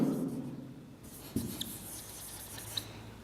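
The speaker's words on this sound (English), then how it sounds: "If I write Sangam" Marker or chalk strokes on a board during an English lesson, faint rubbing scratches with a couple of small taps, quiet and close, without any talking.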